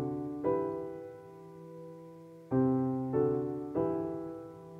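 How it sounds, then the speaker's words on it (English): Custom soft piano synth chords ring out in a simple progression, each chord struck cleanly and left to decay, one long chord followed by three quicker ones, heard alone. "He's got this, it's named Custom Soft Piano"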